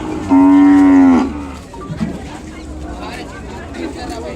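An Ongole breed calf at a crowded weekly cattle market lets out one loud, close, drawn-out moo lasting about a second, followed by the murmur of the crowd and distant voices in the background.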